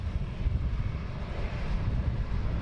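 A Wizz Air airliner taxiing at London Luton Airport produces a continuous low engine rumble and broad hiss, fairly even and moderately loud throughout without speech.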